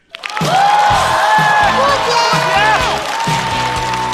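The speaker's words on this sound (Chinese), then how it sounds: "热烈掌声欢迎步惊云" Studio audience at a Chinese stand-up comedy competition bursting into applause and cheers to welcome the next comedian, swelling quickly and holding loud, with music and a voice running over the crowd.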